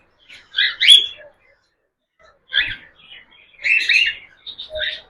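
Cockatiels in a breeding setup with clay pot nests give several short bursts of bright, scratchy chirps, close and clear, separated by quiet gaps, with a pair of calls trading near the end.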